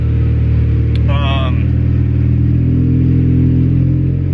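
Single-cam Honda D16 engine running with tuned injectors, settling toward idle: a steady low mechanical drone with a brief higher whine near the start, constant and close.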